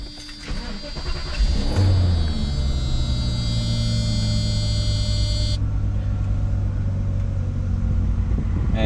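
Mercedes-Benz W140 S-Class engine cranks and catches, then settles into a steady, close idle hum that runs alone for several seconds after the start.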